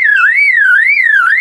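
An Australian lyrebird mimics a car alarm siren, whistling a loud, pure wavering tone that rises and falls in a smooth, regular cycle about twice a second and sounds alone.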